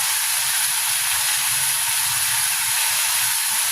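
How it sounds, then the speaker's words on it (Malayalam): Potatoes sauté in a hot pan on the stove, giving a steady, dense sizzle and hiss close up that holds evenly throughout with no talking. "എന്നിട്ട് ഉരുളൻകിഴങ്ങ് നല്ലോണം വഴറ്റിയെടുക്കണം."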